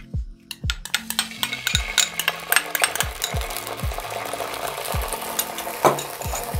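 Oil sizzles steadily in a pan as tomato paste fries, with bright crackling spatter, while a utensil scrapes and knocks against the pan in repeated strokes.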